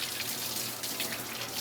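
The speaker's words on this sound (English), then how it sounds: "I'm going to wash my hands." Tap water runs steadily into a sink as hands are washed under it, a continuous close splashing hiss with no speech over it.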